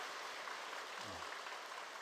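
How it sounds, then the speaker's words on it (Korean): A church congregation at a Sunday worship service applauds to welcome a new member, a faint, steady patter of clapping heard from a distance. "박수로 환영하겠습니다"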